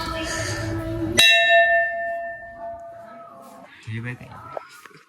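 A temple bell is struck once, loud and close, ringing out with a long fading tone while people talk nearby before and after the strike.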